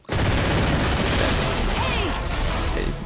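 Rapid automatic gunfire from MP40 and MP5 submachine guns in the mobile shooter game Free Fire, a loud, dense continuous burst of shots with faint mechanical clatter.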